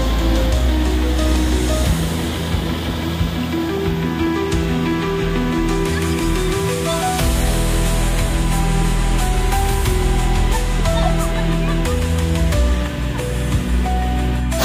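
Harangajao waterfall in Assam roars as a steady, loud, broadband rush of falling water, continuous throughout with no pauses and a faint voice briefly in the mix.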